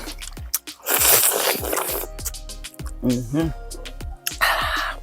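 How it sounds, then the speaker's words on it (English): Wet crunching and sucking sounds close up, slurping bites of juicy mango with short pauses and a little voice in between. "Make a slurpy sound right here"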